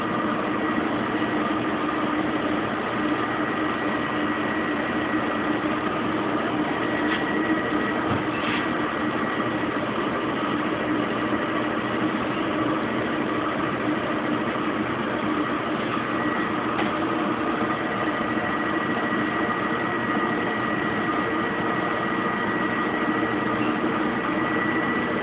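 A Kenmore Oasis washing machine spins up at high speed with its pump running, a steady loud droning hum with rattling vibration that holds constant throughout, no voices present.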